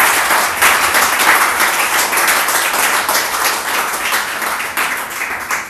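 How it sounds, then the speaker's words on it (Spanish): Steady applause from a church congregation, dense and continuous, filling the space at a fairly loud level throughout with no voices standing out. "Anímate y darle un aplauso"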